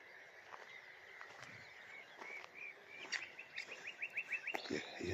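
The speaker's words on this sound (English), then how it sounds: "Just a nightingale." Varied, fluting song of a nightingale sings from marsh cover, with rapid repeated trills and chirps rising in loudness, heard at moderate distance over quiet wetland background.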